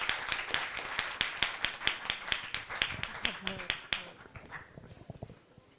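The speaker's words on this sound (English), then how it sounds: "a resounding round of applause for Nada Elata" A round of applause from an afternoon event audience, a rhythmic run of fairly distant clapping that thins out and trails off toward the end.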